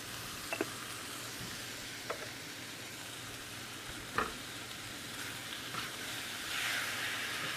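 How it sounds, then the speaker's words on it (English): Jambalaya ingredients browning on high heat in a pot, giving a steady, even sizzle throughout with a few faint clicks and scrapes from stirring. "Let this go on high. And you're going to brown this down to where it almost burns."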